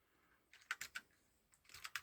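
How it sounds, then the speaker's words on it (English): Keys clacking on an Apple IIc computer keyboard, two short bursts of quick, crisp keystrokes, close and fairly quiet, with no talking. "Let's see how well this keyboard works."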